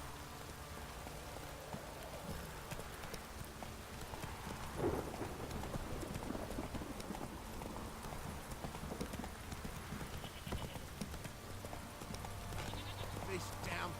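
Roach, Geralt's horse in The Witcher 3, trotting with steady clip-clop hoofbeats through a rainy game scene, the hooves sitting in constant rain noise with a brief louder knock midway.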